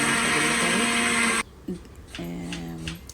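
A mixer grinder whirs loudly as it grinds soaked moong dal into batter for pesarattu. It runs steadily for about a second and a half, then cuts off abruptly, leaving a few faint tonal sounds afterward.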